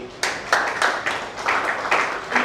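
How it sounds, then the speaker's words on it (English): An audience at a University of Ibadan campus event on bedbug management claps loudly in uneven bursts, with the applause rising and falling. "To resounding applause, join me as we specially welcome Mr. Kenge Adura Agbebi."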